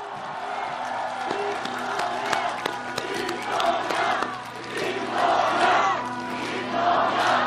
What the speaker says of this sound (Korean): 우리의 동지 김동연 전 후보께 격려의 박수 부탁드립니다